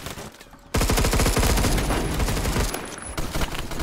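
Rapid automatic gunfire in the video game Phantom Forces, a loud sustained burst of close shots lasting a few seconds after a brief quieter lead-in.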